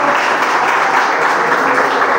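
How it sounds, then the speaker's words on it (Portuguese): A church congregation claps together in dense, sustained applause during a worship service, steady and loud throughout with no gaps and no voices standing out. "Pode bater nas costas, palmas para o Senhor."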